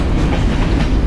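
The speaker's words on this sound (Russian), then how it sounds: "поезд едет на маленькой скорости 15-30 километров в час" Freight train rolling slowly through Mexico at about 15 to 30 km/h, a loud, close, steady rumble and rattle of wagons with a dense low roar and faint clatter.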